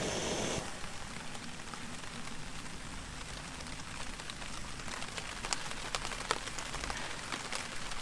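Rain patters on a camping tarp during an overnight trip in heavy rain and wind, a steady wash of drops with occasional sharper taps, moderately quiet throughout.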